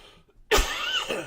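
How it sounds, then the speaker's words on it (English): A single sharp, rasping cough erupts suddenly after a moment of quiet, close and fairly loud. "I am still struggling with this occasional cough, as you can see and hear"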